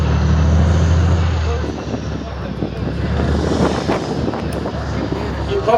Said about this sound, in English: You probably won't hear us very well while the engine of that thing is roaring